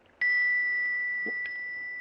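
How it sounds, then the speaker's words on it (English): A small bell in a 1940s radio mystery drama is tapped with a pendant, giving a clear, sustained ring that struck once and then again about a second later, each note lingering in a quiet room. "You hold the bell, and I'll tap it with the pendant."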